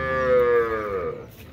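A single cow at a cattle fair in Arapiraca, Alagoas, gives one long, loud, close moo that slides slightly in pitch before trailing off, with no talking over it.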